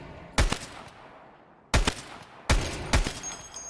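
Gunfire in Escape From Tarkov around the Customs dorms, shooting at windows, comes as three sharp bursts of several rapid shots, each leaving a fading echoing tail, with quiet gaps between bursts.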